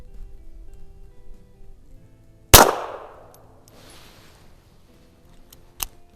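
A 1932 High Standard Model B .22 LR target pistol fires CCI standard velocity ammunition at a range: one sharp, loud crack that decays and rings, followed later by a fainter metallic click, with no talking.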